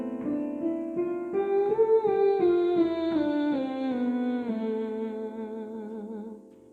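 A male singer sings a natural minor scale starting from A3, stepping through sustained notes one after another at a steady pace, loud and close with no accompaniment.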